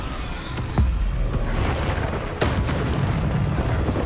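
Bombardo explosion spells in Hogwarts Legacy boom through a busy battle, with two or three heavy thuds standing out over a constant rumbling din.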